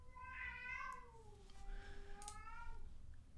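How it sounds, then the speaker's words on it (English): A cat meows twice in a drawn-out, wavering way, close and fairly clear over a low background hum, with no talking. "I think my cat's throwing up."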